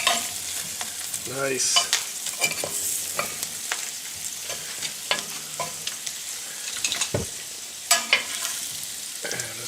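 Food sizzles and browns in a hot pan, a constant frying hiss broken by repeated clattering stirs and turns, with a brief spoken word near the start.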